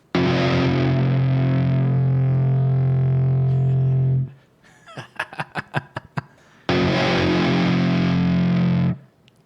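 A heavily modified electric guitar plays loud, close distorted chords that sustain for several seconds, then a run of short muted staccato hits, then another long ringing distorted chord.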